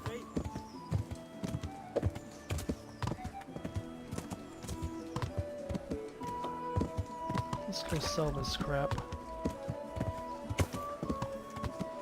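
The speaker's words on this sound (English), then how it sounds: "What is that horse doing there?" Horse hooves clip-clop in the medieval game Kingdom Come Deliverance, a steady walking beat of knocks running under game music and a voice talking throughout.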